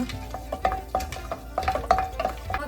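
Whole pulao spices fry in a hot pan while a spoon stirs them, giving repeated light scraping clinks over a faint sizzle, close and steady.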